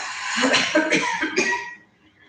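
A person coughs several times in quick succession, close and fairly soft, the hacking trailing off into quiet.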